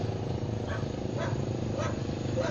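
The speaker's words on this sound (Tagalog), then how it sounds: "Aso sumasagot, aso pala yun?" A few dog barks ring out at a distance over a steady engine idle, with faint background noise throughout.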